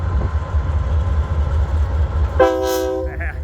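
A Union Pacific outbound manifest freight train rumbles past steadily, then its horn sounds loud and close, a rich multi-tone blast over the continuing rail noise.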